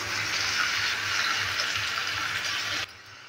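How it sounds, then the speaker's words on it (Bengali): Lukewarm water poured steadily into a cooking pot of sautéed potato and pea dal, a continuous loud gushing splash that stops abruptly near the end. "এবার দিয়ে দিচ্ছি জল, হালকা গরম জল।"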